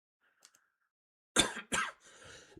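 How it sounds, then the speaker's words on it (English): Two sharp coughs land close to a microphone during a live futures day-trading stream, followed by a brief throaty trailing noise after near silence. "Coughing right in your ears."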